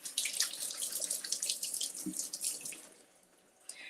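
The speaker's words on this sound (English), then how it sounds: "we're gonna rinse off our blueberries" Blueberries are rinsed under a running kitchen tap, water splashing steadily for about three seconds before the flow stops, leaving a faint drip and a small clink.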